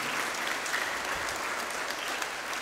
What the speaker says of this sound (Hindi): ज़ोरदार तालियां हमारे बिशप जी के लिए